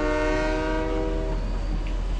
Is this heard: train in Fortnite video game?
yes